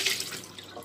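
Water is poured off in a short, faint, steady trickle as cheese is made from yogurt, with no voices.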